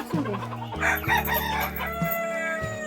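Village chickens cluck busily close by while a rooster crows through the short stretch, loud and lively, with a faint voice in the background.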